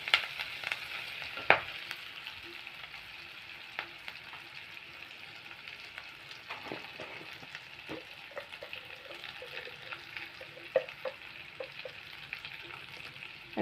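Ingredients for mango rice frying gently in a pan, a quiet steady sizzle with sparse scrapes and clinks of stirring, no one talking.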